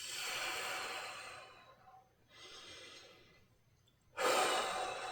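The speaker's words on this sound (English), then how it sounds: "A couple of deep breaths." Deep, audible breathing during an intermediate golf core-strength and flexibility workout, with two long breaths in and out followed by a sharper, louder exhale, close to the ear and with no talking.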